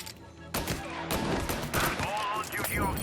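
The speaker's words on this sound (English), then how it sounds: "All on-duty officers, gunshots being reported." Gunfire in the Mafia Definitive Edition video game: a rapid burst of loud, close shots breaks out after half a second and keeps crackling in dense volleys with crashing debris, while a voice murmurs faintly underneath.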